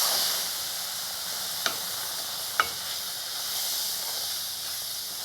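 Almond and semolina mixture fries with a steady broad hiss, with two brief faint clicks or stirs of a utensil in the pan; no voices.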